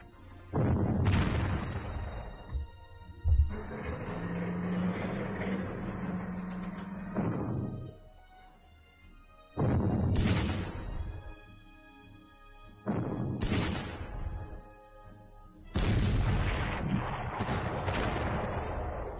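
An 88 gun firing artillery in the war strategy game Panzer Corps, heard as loud booming blasts with long rumbling tails, about five separate shots spread out with quiet gaps between them, no speech.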